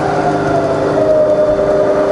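A Bridgeport milling machine spindle runs at 500 RPM with a smooth, steady hum and a faint whine, loud and close, with no change in pitch and no voices over it.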